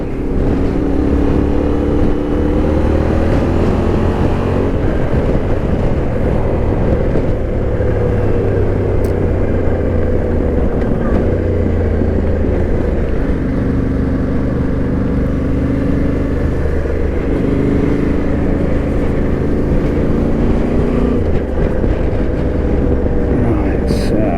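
An adventure motorcycle rides an off-road trail in East Anglia, its engine a loud, steady drone throughout with the pitch rising and falling as the revs change, and constant wind rush over it.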